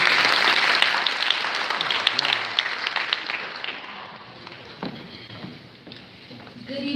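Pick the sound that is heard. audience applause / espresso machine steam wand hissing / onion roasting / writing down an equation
audience applause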